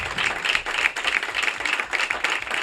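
Audience applause for a novelist at a literary conversation event at the Guadalajara book fair, a steady, dense patter of many hands clapping close by for the whole stretch, with no speech over it.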